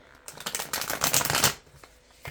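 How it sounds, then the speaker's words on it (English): A deck of cards is riffle shuffled up close for a pick-a-card reading, giving a quick rapid fluttering burst of about a second that ends in a soft tap, then a brief quiet pause. "I'll get some good shuffles in here, just a couple"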